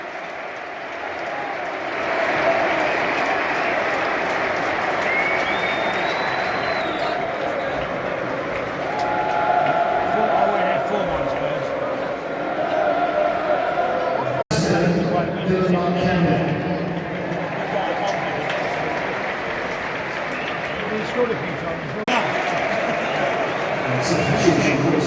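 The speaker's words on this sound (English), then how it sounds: "And the big cheer is for Pochettino's son just coming on" A crowd inside a new football stadium at an under-18 match roars and claps in a sustained, fairly distant wash, surging briefly midway, with someone talking over it.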